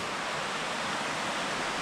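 Boundary Creek in Yellowstone's Bechler River area rushes steadily along a backpacking trail, a dense, even broadband wash of flowing water heard close and alone with no voices.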